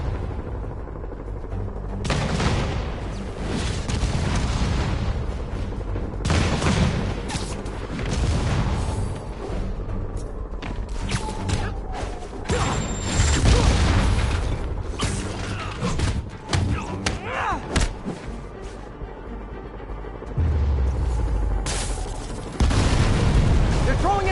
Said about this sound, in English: Rockets! Take cover!